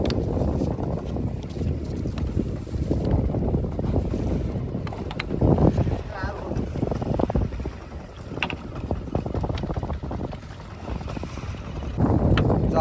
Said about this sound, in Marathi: वारा पण आज बऱ्यापैकी जास्ती आहे.